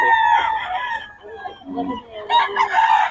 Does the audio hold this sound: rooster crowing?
yes